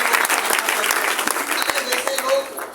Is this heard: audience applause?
yes